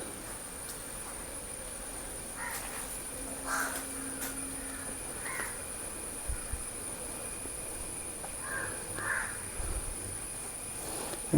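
Crows caw from a distance in short scattered bursts over steady outdoor background noise, with a faint continuous high whine throughout.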